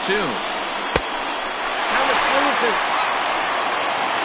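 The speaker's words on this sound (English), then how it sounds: "Gotta love a late rally, and listen to this crowd now" A baseball crowd roars during a late-inning rally in a 3-2 count at UNO, sustained cheering and applause swelling steadily, with a single sharp crack early on and faint broadcast commentary underneath.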